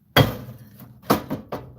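A sledgehammer strikes the front brake parts of a 2020 Ford Escape four times, sharp metallic whacks close by: one heavy blow, a pause, then three quicker hits in succession.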